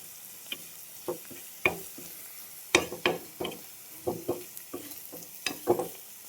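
Noodles with eggs are stir-fried in a pan, giving a quiet sizzle broken by frequent sharp scraping and tossing strokes in an uneven rhythm.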